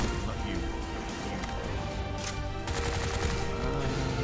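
Rapid machine gun fire in the video game Bright Memory rattles in dense continuous bursts with loud impacts, and a voice can be heard under it.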